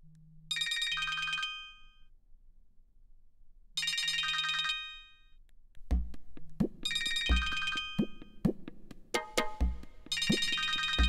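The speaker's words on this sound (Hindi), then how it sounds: "फोन क्यों नहीं उठा रही?" A phone ringtone plays in repeated bright melodic bursts with pauses between, then continues over rhythmic beats and thumps.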